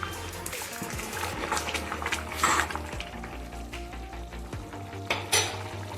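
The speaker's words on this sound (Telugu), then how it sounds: "ఒక 2-3 minutes తర్వాత ప్లేట్ తీసి ఒకసారి బాగా కలుపుకోండి" Mint rice (pudina rice) being stirred in a hot pan, with soft sizzling and scraping of a spoon against the metal, plus occasional light clinks, steady and close with no talking.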